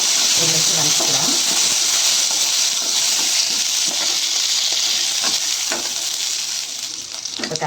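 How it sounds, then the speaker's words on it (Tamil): Curry leaves and green chillies sizzle and sauté in hot oil for poori potato masala, a loud continuous frying hiss with occasional stirring scrapes and a voice speaking underneath. "அப்புறம் கருவேப்பிலை, பச்சை மிளகாய் எல்லாமே எண்ணெயிலே போட்டு ஒரு நிமிஷம் வதக்கிக்கலாம்."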